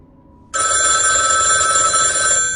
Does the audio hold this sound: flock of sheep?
no